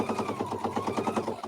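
A sewing machine fitted with a circular attachment stitches fabric in a steady, close, rapid mechanical rhythm of repeated needle strokes with no voices.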